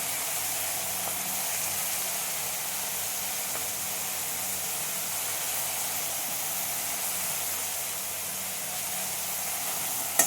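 Something fries in a pan during fish curry cooking, giving an even, unbroken sizzle and hiss that stays at one level throughout, with no voices.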